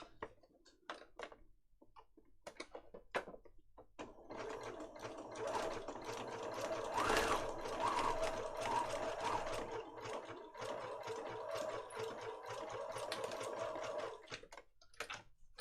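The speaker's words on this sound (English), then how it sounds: "So I need to sew that on before I sew it onto there." A sewing machine stitches the top of a handmade junk journal in sustained mechanical whirring runs, steady and close from around four seconds on, preceded by scattered clicks and handling taps.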